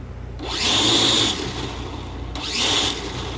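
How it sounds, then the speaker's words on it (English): Small electric motors of a Blade MQX quadcopter spin up briefly during a motor test, giving two short whirring bursts close by, separated by a pause. "I'm just going to give it a tiny bit of rotor"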